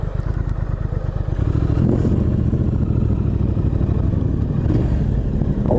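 A 2016 Triumph Thruxton R motorcycle engine idles with a rapid, throbbing pulse, then revs up around the second mark into a louder, sustained roar, close by, with no speech.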